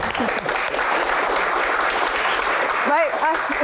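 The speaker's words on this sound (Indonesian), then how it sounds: "tepuk tangan untuk Pak Menteri" An audience at a public question-and-answer session gives the minister steady, dense applause, with a voice briefly rising over the clapping near the end.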